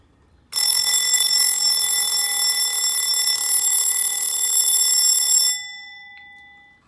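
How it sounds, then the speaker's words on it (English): A loud, continuous metallic bell from a Westclox Baby Ben wind-up alarm clock rings steadily for about five seconds, then stops abruptly and leaves a fading ring. "let's hear that alarm"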